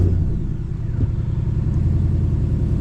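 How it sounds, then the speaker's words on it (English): A 2009-or-newer Ram truck engine idles close by with a steady low rumble, carrying the faint rhythmic tick of an exhaust manifold leak, with no talking. "there's that exhaust manifold tick I was talking about."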